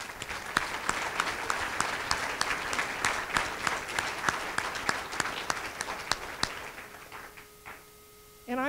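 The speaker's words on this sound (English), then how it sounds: "A round of applause for Jason." Audience applause at a museum reopening gala, a broad patter of clapping with distinct sharp individual claps that thins out and fades toward the end, followed by a brief quiet moment.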